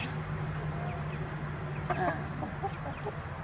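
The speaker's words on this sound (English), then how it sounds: "some of them are my nephew's 4-H chickens" 4-H chickens on a homestead cluck softly and intermittently at a moderate distance over a steady background hum.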